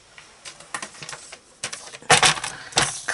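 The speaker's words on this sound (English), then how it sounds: "I'm just going to use my trimmer" A paper trimmer slices off excess cardstock on a desk calendar craft project, a short series of close, sharp clicks and scrapes ending in a louder cutting stroke.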